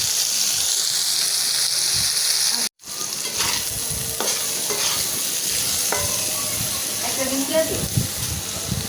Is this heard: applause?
no